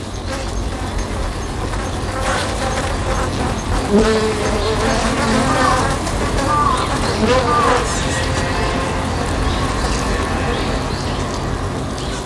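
A dense insect buzz of honeybees swarming over an invading wasp, steady and close throughout, with a few brief rising tones and a narrator's voice partly mixed over it.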